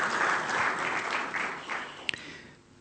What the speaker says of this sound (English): I would like a round of applause for Dr. Allah, please.